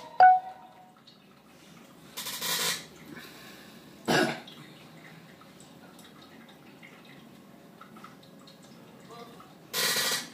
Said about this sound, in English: Everybody coughing and hacking tonight.